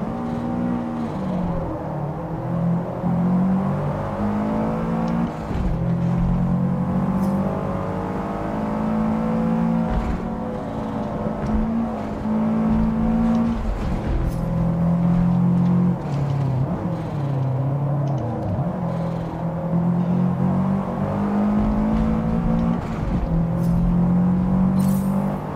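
Race car engine in the Forza Motorsport racing game, driven on PC, roaring steadily and loudly with shifting revs and harmonic whine throughout, with no talking.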